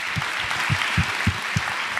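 A small group clapping in a loose, uneven rhythm, close and fairly loud, with a murmur of talk underneath.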